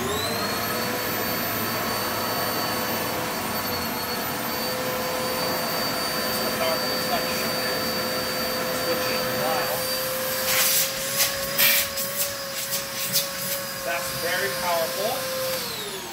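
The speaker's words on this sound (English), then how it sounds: "It's not louder or quieter than any other vacuum I've used." A Kenmore Progressive bagless upright vacuum cleaner runs continuously with a loud, steady motor whine and airy roar, with scattered clattering toward the end.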